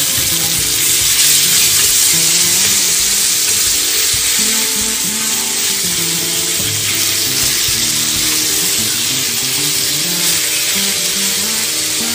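Onions fried until browned with freshly added taro greens crackle and hiss loudly and steadily in a hot pan, a dense continuous sizzle with no voices over it.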